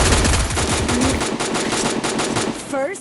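Bursts of rapid automatic gunfire from the video game Free Fire Max rattle loudly in quick succession, followed by a brief electronic game chime at the end.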